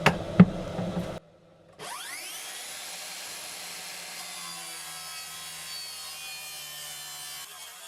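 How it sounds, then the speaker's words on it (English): Track saw and jigsaw cutting a hole in a worktop while fitting a gas hob in a camper van: a brief rough cutting burst, a pause, then a steady high whining saw that runs on without a break. "I was using a combination of track saw and jigsaw"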